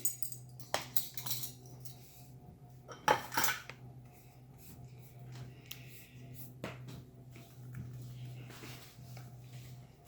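Ingredients stirred in a bowl with a utensil, quiet clinks and scrapes of metal against the dish in irregular bursts, one sharper clatter near the middle, with a low steady hum underneath.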